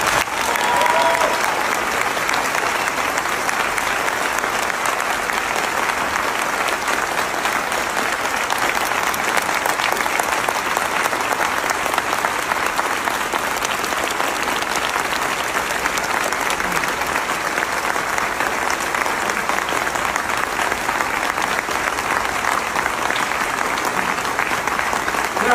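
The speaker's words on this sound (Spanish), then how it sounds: "yo quisiera pedirles que brindáramos un cariñoso y respetuoso aplauso hasta donde esté al señor Héctor Bonilla." Steady, dense audience applause that holds at an even level for about twenty-five seconds, with many hands clapping together and no pauses.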